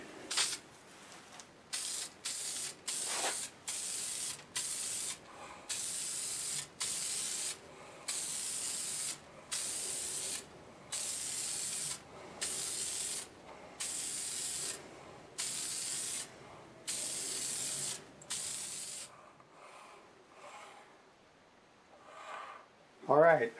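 A finish coat is sprayed onto a wooden segmented twisted vase on a lathe, in a long series of short, evenly spaced hissing bursts from a spray can, fairly close, followed by brief quiet handling sounds.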